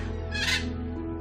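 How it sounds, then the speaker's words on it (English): A blue and gold macaw gives a single harsh, raspy greeting squawk outdoors on a patio, rising briefly over a steady hum of background noise. "my blue and gold macaw gave out the macaw greeting call"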